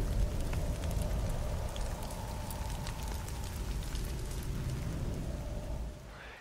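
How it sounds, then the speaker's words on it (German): Steady rain falling and pattering on surfaces, a continuous close hiss with scattered drops, easing slightly near the end. "Wie ihr seht, es regnet."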